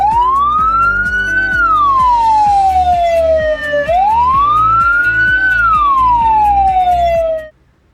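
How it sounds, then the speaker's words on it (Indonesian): An ambulance siren's call for carrying a corpse wails loudly, rising and falling slowly in two long sweeps, heard alone with no voices, then cuts off abruptly. "Bawa sirene jenazah."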